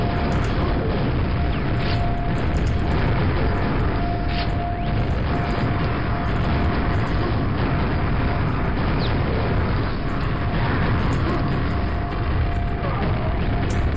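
Grenade explosions fill a room in a multiplayer video game, heard as a dense, continuous roar of booming blasts and rumble at steady loudness for the whole stretch, with no talk over it.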